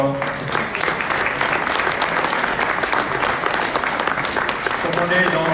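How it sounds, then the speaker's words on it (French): An audience gives a sustained, dense round of applause after a stage performance. The clapping holds steady and loud throughout, and a brief tonal sound surfaces near the end. "On les applaudit encore."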